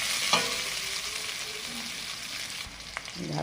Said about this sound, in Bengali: তা ঝাল পেঁয়াজ ভেজে নিচ্ছি